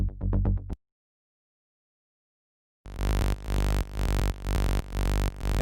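Plain synthesizer bass from an initialized preset in a rolling-bassline production setup, heard after a short burst and a pause as a loud, buzzy sustained tone pulsing in a steady repeated rhythm, with no voice.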